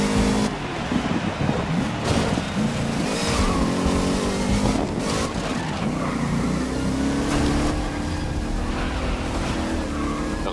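Engines roar and rev continuously as racing cars drive in the video game GRID at night, with shifting pitch and occasional bursts of acceleration, loud and close throughout.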